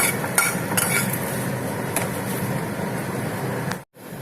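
Cashews and chillies frying in oil in a pan over a low flame, with a steady soft sizzle and occasional light clinks of a spoon stirring; the sound cuts out briefly near the end.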